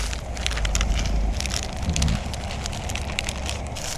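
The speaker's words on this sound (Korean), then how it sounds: "비가 오기 시작합니다. 갑자기." Rain falling at a winter campsite in Switzerland, a steady dense patter and crackle on surfaces, close and continuous, with low rumbling noise underneath.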